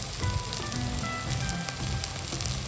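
Spice powders (chili, turmeric, cumin, coriander) sizzling in hot oil for a desi chicken curry, a soft, even crackling hiss held steady throughout, close but fairly quiet, with faint clinks and no voices.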